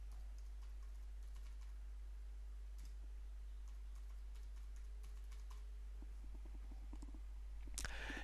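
Quiet keyboard typing as a database user password is entered, soft scattered keystrokes over a low steady hum, ending with a sharper click.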